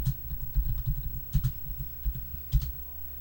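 Computer keyboard typing a chat message, a quick close run of soft key clicks with a few heavier taps, continuous throughout with no talking.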